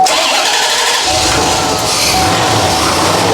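A Corvette C4 ZR-1 barn-find car cranks and fires up, its engine settling into a loud, steady mid-pitched roar held at raised revs, close by with no talk over it.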